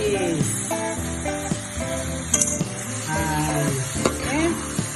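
Ikan bilis anchovies frying in a pan, giving a steady close hiss of sizzling oil with stirring clinks and scrapes, while a voice speaks faintly underneath.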